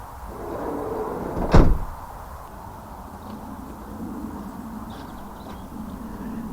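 An electric van's sliding side door rolls and thuds shut with one sharp clunk, followed by quiet background hum and faint movement.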